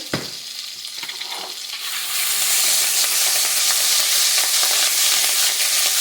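Garlic and ginger sizzle loudly in a pan of leftover bacon fat while being stirred, the frying hiss swelling and steadying after a couple of seconds into a continuous, close crackle with no talking.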